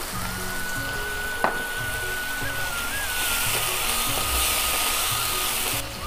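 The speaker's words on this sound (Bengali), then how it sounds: "এর মধ্যে আমি 1 চামচ আদা বাটা দেব, দিয়ে আমি নেড়ে নেব।" A spoonful of ginger paste is stirred in a frying pan, giving a continuous loud sizzle close by with a single sharp utensil click partway through.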